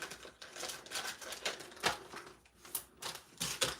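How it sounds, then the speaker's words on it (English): Paper ends being trimmed with a cutter while making a pumpkin-patch stamped card: a series of short, crisp slicing and clicking strokes, close and fairly quiet, with no talk. "then we're gonna trim off the ends like that."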